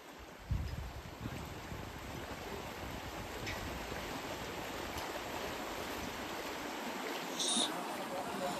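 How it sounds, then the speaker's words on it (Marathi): River water flows steadily as a broad, continuous rush, loud and close, with a brief voice and a few knocks near the start and a faint squeak near the end. "सो काय आता आपण नदीवरती आहोत."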